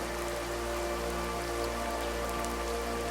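Heavy rain pours down in a Hindi cartoon story, a dense, steady hiss of drops striking surfaces that stays constant and unbroken, with no voices.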